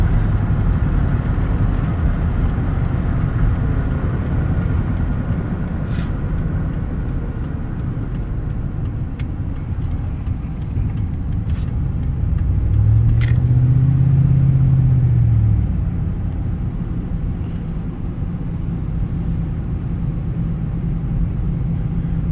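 A 1998 Ford F-150 4x4 short bed with a 4.6L V8 accelerating at part throttle, a steady loud low engine rumble with a swelling rise in revs midway, heard alone without talk.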